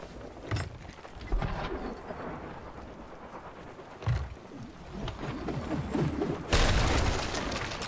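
Deep booming cannon shots go off from pirate ships during a brigantine battle in a video game, with several heavy thuds spread across the clip and a louder blast near the end over a rumbling background.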